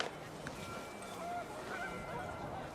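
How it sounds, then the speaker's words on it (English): Panicked geese honking in the game What Remains of Edith Finch, a few brief calls passing over constant wind and background noise. "panicked geese appeared and quickly went"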